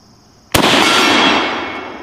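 A single sharp, loud rifle shot from a Mauser M1898 aimed at a steel target, a sudden crack followed by a long reverberating tail that slowly fades outdoors.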